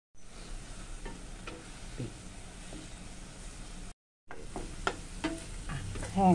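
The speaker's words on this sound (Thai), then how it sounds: "ลวนหมูให้สุกนะทุกคนแล้วก็เอาตับใส่ไปนะทุกคน ตับใส่ไปทำให้มันสุก" Pork and liver stir-frying in a pan for larb, a quiet, even sizzle with scraping stirs, cut by a short silence before the frying resumes.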